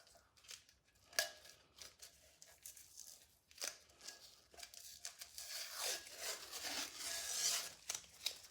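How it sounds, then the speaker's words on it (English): Tape being applied to a tumbler: quiet, close ripping, sticky peeling and rubbing sounds in irregular short bursts, with no voices. "I tape everything off."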